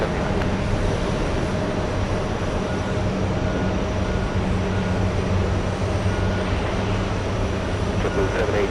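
A Boeing 747 airliner taxis toward the runway at JFK airport, a steady, moderately loud jet engine drone with a constant low hum throughout.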